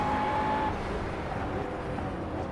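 A McLaren race car engine roars steadily in Project CARS during a 125-mile race at Brands Hatch, loud and close, with a continuous drone that eases slightly after the first second.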